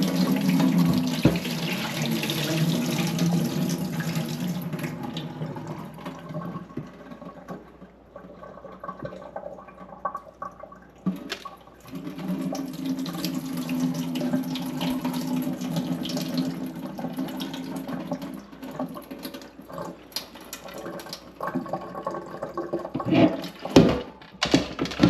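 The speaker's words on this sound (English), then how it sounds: "we're going to put some water in it" Tap water runs into a cooking pot for boiling peas for Jamaican stew peas, a loud gushing stream that pauses and restarts, its pitch shifting as the pot fills. No one speaks.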